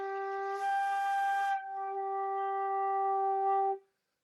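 A flute slurring from a low G up to a high G on one continuous breath, a steady breathy tone that shifts pitch without a break, then stops cleanly, heard up close with no talking.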